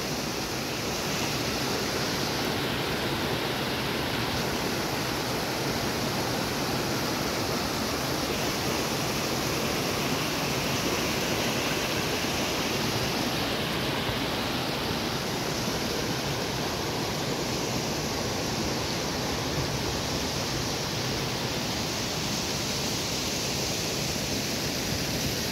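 A flooded mountain stream in Baglung, Nepal, one that has badly damaged a hill road, rushes with a dense, unbroken roar of water that stays loud and steady throughout, with no voices.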